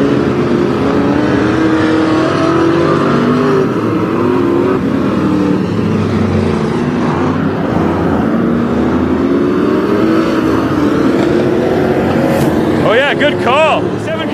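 Race car engines roar continuously on a figure 8 speedway at Perris Auto Speedway during the main event, the steady engine drone rising and falling in pitch as the cars work around the track.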